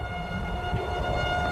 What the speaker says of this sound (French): la sirène d'alarme qui hurlait en ville.